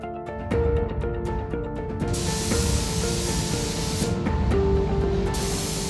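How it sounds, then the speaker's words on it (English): Paint sprays onto a vintage 1955 Ameise forklift in a long, steady, close hiss that swells and fades slightly between passes, with faint tonal music underneath. "The vintage forklift is getting a fresh coat of paint."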